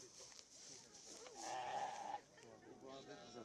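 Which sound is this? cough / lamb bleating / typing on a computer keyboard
lamb bleating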